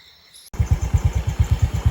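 A moped engine starts abruptly after a half-second of quiet at night, then idles loud and close with a steady, rapid pulsing chug, insects faintly audible at the start.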